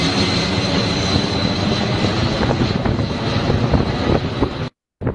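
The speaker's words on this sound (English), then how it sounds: "if it's just that long, I think it's a plane" A propeller airplane passes overhead, loud and close, a continuous broad engine roar lasting about five seconds before cutting off abruptly.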